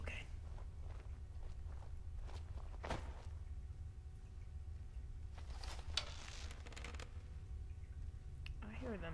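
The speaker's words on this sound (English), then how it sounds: "Hear them footsteps, don't think I don't." Soft, quiet footsteps in Skyrim shuffle over a low steady game ambience, with a few brief thuds and scrapes scattered between them and no voices.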